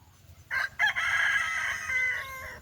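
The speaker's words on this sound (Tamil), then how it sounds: "பக்கத்தில் இந்த கோழி சேவல் எல்லாம் கூவி" A rooster crows once at close range with a long, loud cock-a-doodle-doo, rising at the start and trailing off, over a quiet rural background of fields and banana groves.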